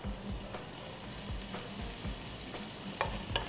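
Ginger frying in a pan, a steady crackling sizzle with occasional scraping stirs, close and moderately loud with no talking.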